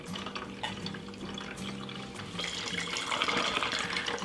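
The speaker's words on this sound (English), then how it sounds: "And then it's going to release that bit of water and it tells us to discard it." A Gourmia tea maker releases rinse water, which runs and splashes continuously at close range into a bucket. The flow grows fuller and brighter toward the end, with no talking.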